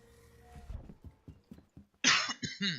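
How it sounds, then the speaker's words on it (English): A person coughs several times in quick succession near the end, sharp bursts close to the mic after a stretch of quieter low thumps. "Pardon the cough."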